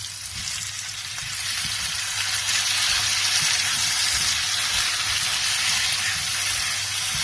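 Taro root (arvi) with tomatoes fries in a pan for a salan, a loud, close, steady sizzle that swells after the first second and carries on evenly with light stirring underneath.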